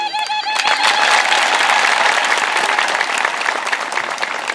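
Dense, sustained applause from a large audience at a religious teaching gathering in Jerusalem, loud and close, a steady wash of many hands clapping with no pause.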